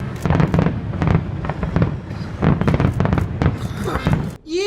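Diwali firecrackers bursting: a dense, continuous stream of loud cracks and bangs, one after another, close by and ending in a sharp tail.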